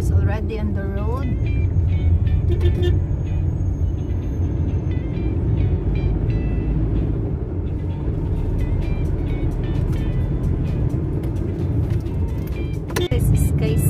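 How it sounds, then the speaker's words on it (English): Cars driving along a road near Minglanilla Highlands and Talisay, a continuous loud traffic rumble with passing vehicles and scattered clicks and knocks, heard from close by. "Cars already on the road."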